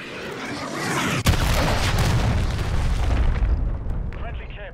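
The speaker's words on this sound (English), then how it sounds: "Hostiles launched a cruise missile." A cruise missile strike in the video game Modern Warfare 3 multiplayer lands as a sharp deep boom, followed by a long rumbling roar and debris that fades over several seconds.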